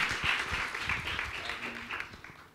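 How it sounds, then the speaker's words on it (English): A festival audience claps for the team behind an award-winning film, a sustained round of applause that gradually thins and fades toward the end. "A huge round of applause for everybody."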